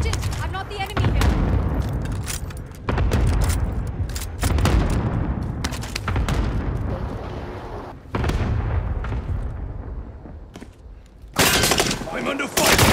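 Dense bursts of gunfire and explosions from a Call of Duty: Modern Warfare match, loud repeated volleys with short gaps between them and a final sharp blast.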